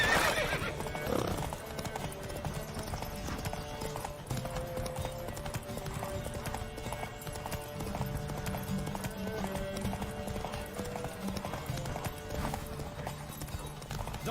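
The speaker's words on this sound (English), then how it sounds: "Don't spare the horse!" A horse gallops in a race in The Witcher 3, with steady rapid hoofbeats throughout under a continuous game music bed, loud and close; a whinny rises near the start.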